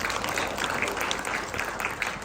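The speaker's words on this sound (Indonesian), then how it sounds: "Dengan tepuk tangan bagi Yesus." A church congregation applauds during an Easter service, a fairly quiet but continuous wash of clapping that runs evenly through the short moment.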